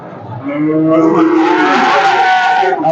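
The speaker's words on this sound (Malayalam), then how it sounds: "കറവ് പശുവാണ്" A dairy cow at a cattle market gives one long, loud, close moo that swells and holds for a few seconds.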